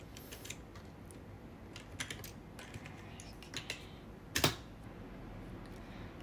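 Someone types a script name on a computer keyboard, giving faint scattered key clicks in short bursts, with one louder clack near the end, over quiet room noise.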